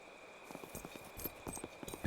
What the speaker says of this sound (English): Listen, there's a dull quality to our footsteps here